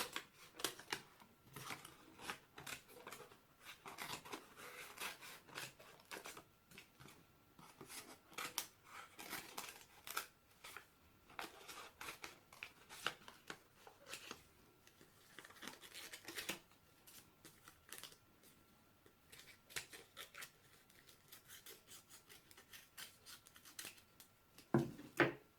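Scissors cut through paper around a spectacles shape in a long run of quiet, close snips and crisp crunches at an uneven rhythm, with faint paper rustling between cuts and no talk.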